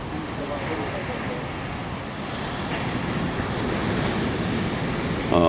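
Ocean waves break on the shore at San Eugenio with a steady, loud wash and rumble, mixed with wind buffeting the microphone and faint voices.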